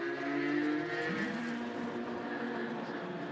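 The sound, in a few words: race car driving on track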